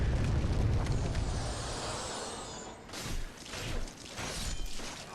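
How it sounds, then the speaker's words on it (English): A dragon breathes fire across the Dragon Bridge in Demon's Souls: a long, loud rushing roar of flame, then fading into a few rumbling swells. "We're going to get him to go ahead and burn fire that direction"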